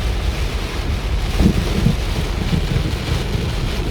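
Heavy rain pours steadily during a storm on the road from Wiang Pa Pao toward Chiang Rai, Thailand, a loud, dense roar with wind buffeting the microphone and no voices.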